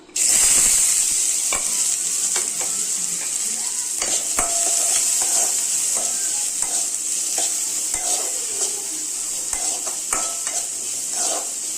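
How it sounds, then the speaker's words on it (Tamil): Chopped onions frying in a pan for an egg stir-fry, a strong steady sizzle that starts abruptly, with scattered clinks and taps of a utensil against the pan. "வெங்காயம் போட்டுக்கலாம் இப்போது"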